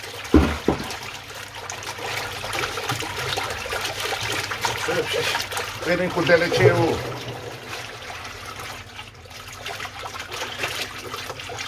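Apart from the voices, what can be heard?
water pump filling buckets with water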